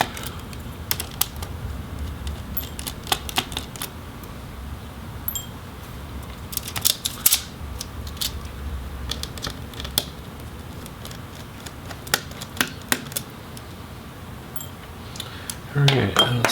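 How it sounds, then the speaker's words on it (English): Small screws being backed out of an HP Pavilion Gaming 15 laptop motherboard, heard as scattered light metallic clicks and ticks, close and fairly quiet over a low background hum, with a louder clatter near the end. "we'll go ahead and pop out the last screws for the motherboard."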